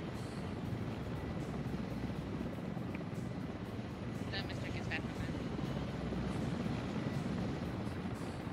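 A helicopter in the military video game Arma 3 produces a continuous, droning rotor and engine noise that holds steady at a moderate distance.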